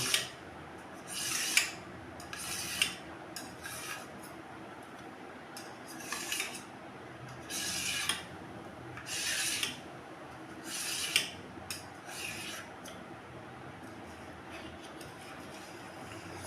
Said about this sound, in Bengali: এখন আমি এটা পিস পিস করে কেটে নেব